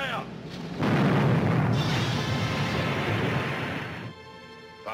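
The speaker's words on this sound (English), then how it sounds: "Shot across their bow. Number one gun," A 1950 pirate-film ship's cannon fires a shot across another vessel's bow, a single heavy boom followed by a long rumbling roar that fades over several seconds.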